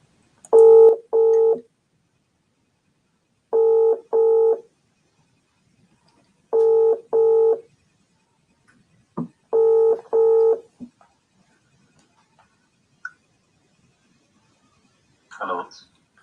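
Touch-tone telephone keypad beeps while calling a guest on a live podcast stream: paired dialing tones in four short clusters, clear and close, followed by quieter faint clicks and brief noise near the end.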